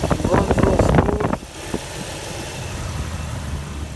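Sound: 2004 Jeep Wrangler LJ Unlimited engine running

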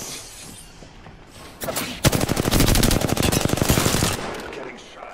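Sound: gunfire in the video game Apex Legends

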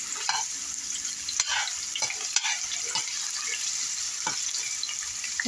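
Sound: onion frying in a pan

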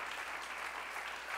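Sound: children clapping hands

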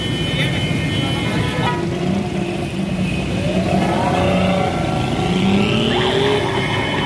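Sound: car driving away

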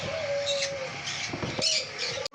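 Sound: pet birds calling at a shop, lovebirds and sun conures

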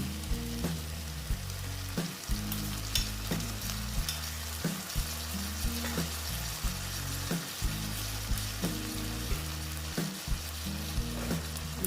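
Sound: stir-frying okra in a pan

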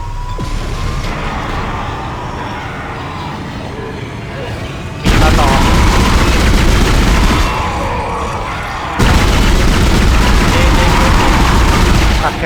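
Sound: gunfire in the video game Dead Space

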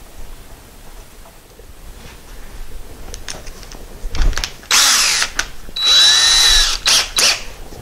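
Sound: power drill drilling out VW shift linkage parts

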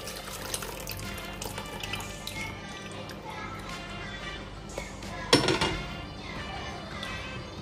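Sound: pouring soaked tamarind water into the cooking pot

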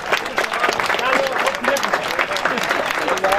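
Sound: applause for the cycling race winners

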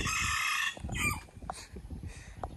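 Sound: chickens and roosters crowing

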